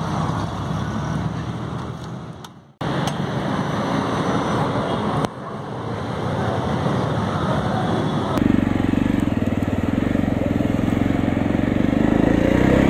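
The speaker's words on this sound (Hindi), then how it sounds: "चाबी मिल गई है जावा 42 की और इसको मैं अभी करने वाला हूँ राइड।" A Jawa 42 Bobber motorcycle ridden, its engine droning steadily and loudly close by with a brief dropout, then rising to a heavier, deeper note in the latter part.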